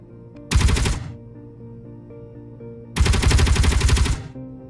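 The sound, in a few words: ship weapon test firing in Space Engineers video game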